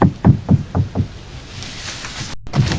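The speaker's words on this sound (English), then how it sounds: "he knocked on the door to use the bathroom" Five quick, firm knocks on a door sound close up in an even rhythm, followed by a quiet stretch and one more soft tap.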